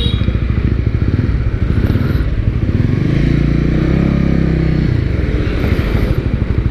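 A Honda Winner X motorcycle engine runs loud and close, with a steady idle swelling into a sustained rev mid-way before settling back.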